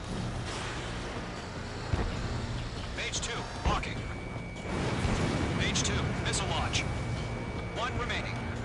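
Missile launches and explosions in the Ace Combat 7 jet combat game: dense roaring engine and blast noise with a few sharp bursts and whooshes, a long swelling rumble midway, and radio-style voices talking over the action.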